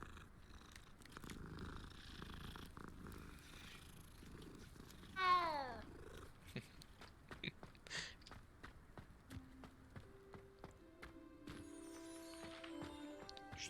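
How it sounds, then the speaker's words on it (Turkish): A cat purrs in the video game Hogwarts Legacy with a soft, low rumbling texture. Footstep-like ticks and brief game sounds come and go over it, and tonal music or effects enter toward the end. "Çok değişik sesleri var kedilerin."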